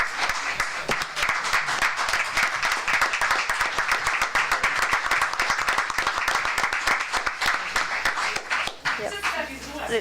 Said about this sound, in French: tu peux l'applaudir